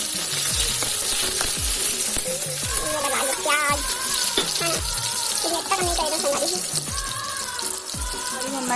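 Vegetables hit hot oil with a loud, dense sizzle that runs throughout, mixed with running-water-like splashing, clinks and a voice talking.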